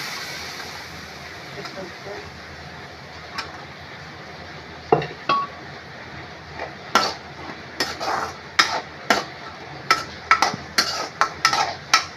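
Chickpea curry with ginger and garlic stirred in a pan, a run of sharp metallic scrapes and clinks from the spoon that come quicker and repeat in the second half over a faint sizzle.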